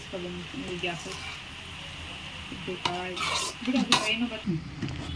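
Mixed greens palya is stirred in a hot pan, with a spoon scraping and clinking against the metal over a soft sizzle, as someone talks nearby.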